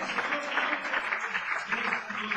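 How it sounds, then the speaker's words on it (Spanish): Church congregation applauding, a dense steady patter of many hands clapping close by for a couple of seconds. "Si le van a aplaudir al Señor, hazlo"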